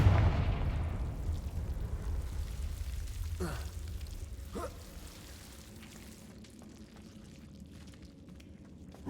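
A Confringo fire spell going off in Hogwarts Legacy, a loud broad blast that opens the clip and fades into a long rumbling tail, followed by a couple of faint sweeping whooshes, with no voices.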